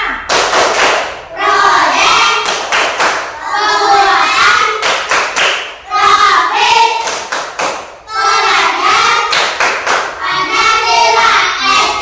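A classroom of children stands and performs a P5 clap chant, rhythmic bursts of group clapping and thumping mixed with children's voices chanting along, loud and close, in repeated phrases over about twelve seconds.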